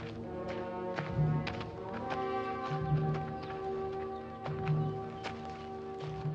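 Horse hooves clop in a steady rhythm beneath sustained tonal music in a scene from the film From Hell to Texas, the footfalls moderately close.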